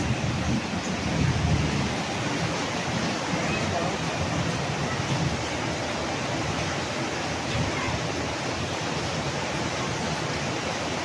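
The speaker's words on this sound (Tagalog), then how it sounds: "tingnan mo lakas ng kidlat talaga sa labas. Yung lakas ng ulan." Dense, continuous roar of heavy rain outside during a thunderstorm with a low rumble underneath, a person speaking over the downpour.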